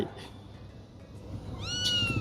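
A cat meows once near the end in Blue Archive, a clear rising call over quiet background sound.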